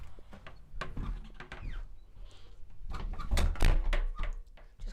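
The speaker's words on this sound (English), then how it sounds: "Just close the door" A door being closed inside a house, heard as a few thumps and knocks amid shuffling movement, with a heavier low thud toward the end; fairly close and moderately loud.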